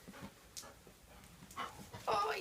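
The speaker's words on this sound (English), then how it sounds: "this is the kind of dog you want" A pet dog pants softly and quickly at close range in a quiet room, with a little faint movement around it.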